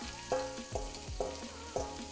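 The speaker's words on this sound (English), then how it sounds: "I already got a little sizzle." Garlic, onion and peppers sizzle in sesame oil in a pan, a soft steady frying hiss punctuated by four evenly spaced clinks or stirring knocks.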